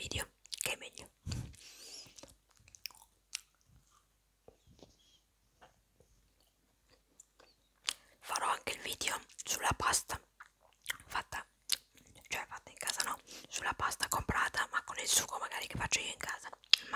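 Close-up crunching and chewing of a snack in an ASMR session, with crisp bites and mouth sounds interspersed with soft whispering.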